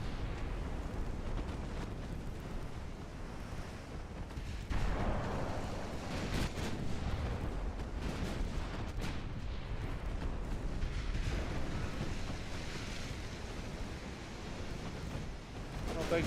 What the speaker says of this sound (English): Oh, an ammo detonation. Oh, he's done.